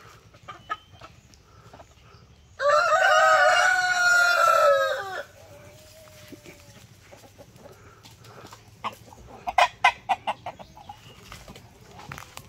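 A loud Rhode Island Red rooster crow rings out for about two seconds, followed by scattered clucking and short bursts of chicken calls against a quiet farmyard background.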